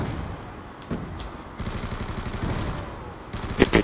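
Gunfire from a Call of Duty Zombies game crackles in quick rapid bursts, fairly faint and broken by short pauses, with a sharper louder cluster near the end.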